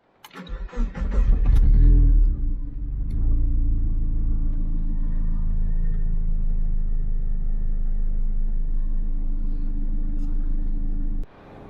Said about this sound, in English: Here we are doing some more highway cruising with the AC blasting